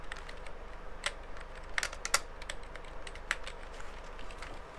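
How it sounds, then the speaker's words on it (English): Keys clatter on a Thermaltake Tt eSports Challenger Prime gaming keyboard in quick irregular bursts of sharp clicks, close and fairly loud, with no talking. "I usually buy a keyboard like this, and I like them to have gaming keys on the side"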